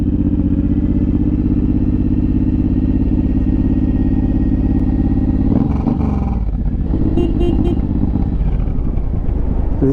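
Motorcycle engine rumbling steadily up close on a road amid construction, loud and continuous, with a brief clattering burst and a shift in engine tone partway through.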